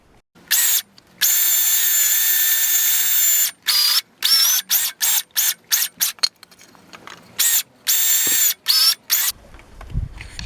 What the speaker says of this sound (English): right now I'm going to just cut out the shape of the fish on the bandsaw